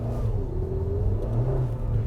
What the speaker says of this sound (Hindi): देखिए एक बार तो न्यूट्रल पे सिर्फ 4000 RPM तक जाती है, उसके ऊपर नहीं जाती है